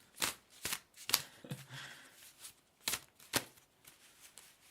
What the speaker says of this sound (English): I've got so much Blue Tack I could shuffle it.